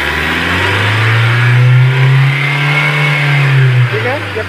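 A Mahindra XUV 500 engine with a check engine light and poor pickup is revved hard under full throttle, a loud sustained roar that rises and holds steady before easing slightly.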